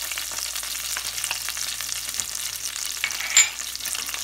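Cumin seeds and green chili frying in hot oil for sabudana khichdi give a steady, close sizzle with faint stirring scrapes and one brief sharper clink near the end, and no talking.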